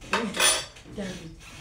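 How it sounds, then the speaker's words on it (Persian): A metal spoon clinks and scrapes against a glass while stirring cola, in quick bursts of ringing taps and swirls, close and fairly loud with no talking. "قاشقو بنداز میخوام هم بزنیم"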